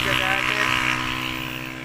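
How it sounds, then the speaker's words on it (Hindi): A motorbike races past at high speed, its engine whine loud and close, then fading slightly as it moves away. "बाइक वाला जो है ना बहुत ही स्पीड से गुजर के गया है।"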